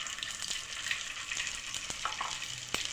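Prawn pakoras deep frying in hot oil give a steady, close crackling sizzle with occasional sharper pops and light utensil taps throughout.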